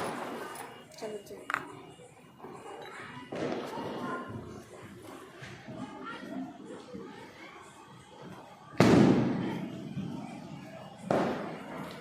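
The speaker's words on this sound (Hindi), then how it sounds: "पटाखे भी जल रहे हैं बहुत सारे" Firecrackers go off during an evening Karwa Chauth celebration, with two loud, sharp bursts standing out over a murmur of background activity and fainter distant pops.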